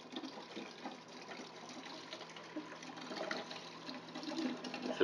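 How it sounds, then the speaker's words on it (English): Water runs through the overflow drain of a newly installed bathtub, a soft, continuous gurgling trickle that swells slightly toward the end, heard alone without talk. "Now you can hear how water overflows."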